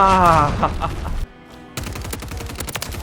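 Superi 46 SMG fire in Call of Duty: Modern Warfare, loud rapid bursts up front, a brief near-silent pause, then more close, clattering shots.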